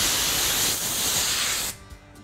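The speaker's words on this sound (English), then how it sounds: "I'll take compressed air, an air hose, and I'll blow from the back side." Compressed air from a hose blows through an RV air conditioner coil from the back side, a loud steady hissing rush that cuts off abruptly near the end, leaving faint background noise.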